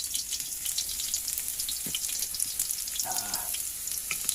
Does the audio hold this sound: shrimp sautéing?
yes